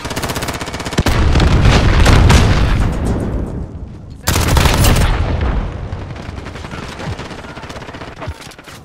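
Dense automatic gunfire and heavy bursts in the first-person shooter Call of Duty: Modern Warfare, loud and continuous with a sharp restart midway, layered with distant shots and battlefield rumble.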